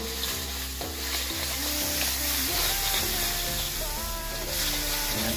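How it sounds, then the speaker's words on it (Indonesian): Seasoned ingredients for sweet and sour gourami, salted with chicken stock and flavouring, fry and sizzle steadily in a pan, a close continuous hiss with stirring scrapes and low hum beneath. "Kita goreng-goreng."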